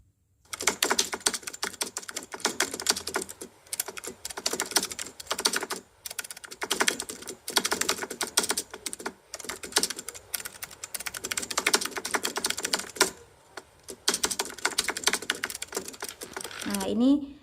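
Keyboard typing sound effect from the Kinemaster library, a steady clatter of keystrokes in bursts with short pauses, fairly close, with a brief unrelated sweep at the end.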